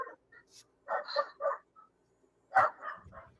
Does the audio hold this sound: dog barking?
yes